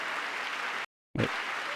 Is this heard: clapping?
yes